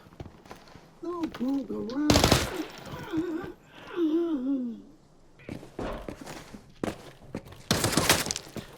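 Bursts of automatic gunfire from shooting bots in Call of Duty DMZ crack out in loud clusters with pauses between, while voices talk over and between the shots.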